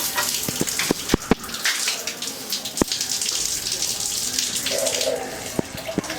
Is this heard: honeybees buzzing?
no